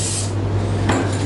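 Spray paint hissing through a stencil in a workshop, a brief close burst at the start and another short puff near the end over a steady low hum.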